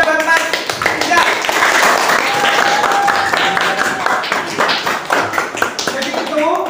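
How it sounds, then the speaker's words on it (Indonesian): Classroom applause for a student, a loud burst of many hands clapping together, dense and fast, sustained for several seconds close by without a break. "Kita berikan tepuk tangan yang meriah buat Mas Rizal."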